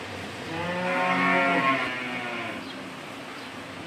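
Cattle at a farm moo once in a long, loud, drawn-out low call close by, trailing off into quiet rustling.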